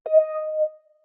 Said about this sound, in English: in this case I use the wah electric guitar, and it sounds like this